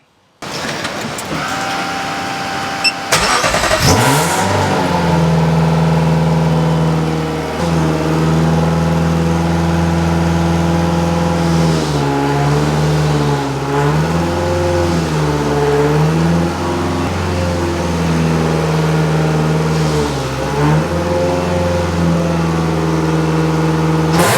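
The Ferrari engine in an Alfa Romeo 105 cranks and catches, then settles into a loud, steady running idle with occasional rises in revs.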